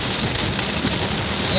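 Torrential rain drums steadily on a car driving along a road on a rainy Saturday morning, a loud continuous wash of drops close by with no voices.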